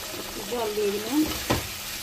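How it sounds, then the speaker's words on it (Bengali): Spice paste with a splash of water sautéing in a pan, a steady sizzle with scraping stirs and a sharp clack of the spatula near the end, no voices. "মশলাটা ভালো করে কষিয়ে নেব।"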